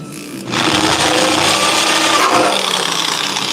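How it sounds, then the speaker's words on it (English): An electric power drill in a garage spins up after a brief quieter start, then runs continuously at a steady, loud whine with a slight rough edge until the end. "Might have to use the actual drill."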